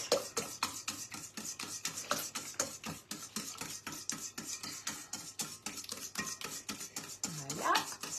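Cake batter with oil being mixed in a bowl, heard as a steady, rapid run of whisking strokes, about three per second, continuous and close throughout with no talking.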